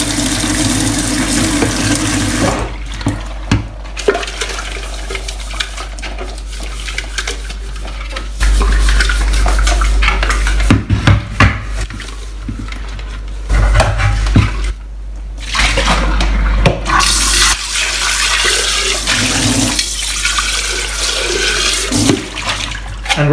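A soy milk maker unit gets washed by hand in a kitchen sink with hot water and a little washing-up liquid: running water splashes and gushes, with rattling and clanking against the basin in bursts, loud and close throughout.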